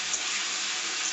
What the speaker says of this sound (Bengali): আলুটাকে ভেজে নিচ্ছি এসব দিয়ে